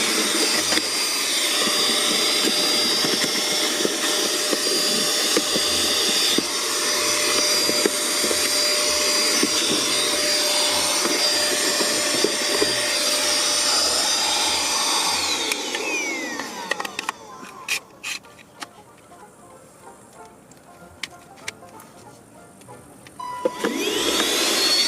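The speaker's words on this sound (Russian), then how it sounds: "Как раз сейчас проверим, как он пылесосит." A Xiaomi Shunzao Z1 handheld vacuum cleaner runs with a loud, steady high-pitched motor whine. Later it shifts to a quieter, choppier suction sound with scattered clicks and rattles, as if it is picking up debris, before the whine rises again.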